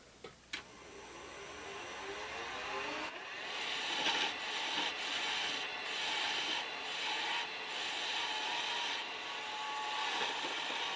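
A skew chisel cuts wood in a steady, continuous scraping hiss that runs moderately loud throughout, with a few brief changes in pressure.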